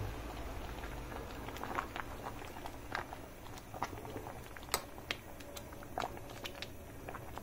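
A pot of hibiscus fabric dye bubbles at a low boil on the stove, with soft irregular pops and crackles over a quiet, steady simmering hiss.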